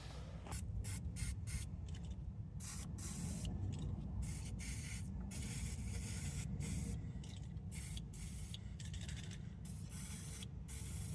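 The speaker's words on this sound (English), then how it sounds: "I'm going to get some WD-40, spritz it, and then try to pry it open." WD-40 sprayed from a nearly empty can onto the gummy chain of a 2006 Varadero 125 motorcycle, a close, steady hiss in short repeated bursts over about eleven seconds.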